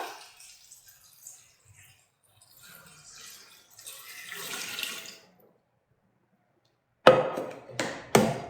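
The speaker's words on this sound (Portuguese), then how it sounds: "Vou despejar aqui a água." Water poured into a blender jar holding red cabbage leaves for cabbage juice: a steady splashing pour of about five seconds, then a pause and two short, sharp bursts.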